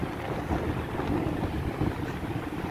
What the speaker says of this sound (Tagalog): Oop, ang lakas ng hangin